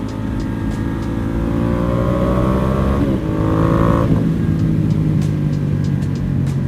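A Ducati Diavel 1260 motorcycle engine revs and accelerates up close in a loud, steady roar, its pitch climbing, dipping briefly near the middle, then rising again.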